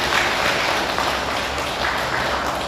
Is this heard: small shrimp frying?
no